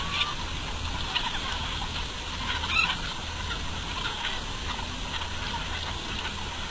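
A flock of about five thousand laying hens on an open farm, their steady clucking and calls blending into a continuous mid-distance chorus with occasional louder squawks.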